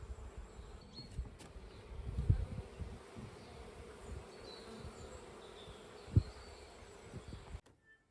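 Wasps buzzing faintly in a quiet room, a thin, soft drone that wavers in and out over low rumbling background noise, with a couple of small knocks, fading to near silence at the end.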